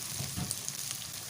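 Meat sizzles and fries steadily in a pan, a continuous crackling hiss with small spitting pops, close and moderately loud, with no voices.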